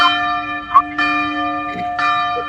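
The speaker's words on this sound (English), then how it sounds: "We got to ring the bell." Church-style bell tolls ring out clearly in a comedic bit, several evenly spaced strikes with long sustained ringing tones, loud and close.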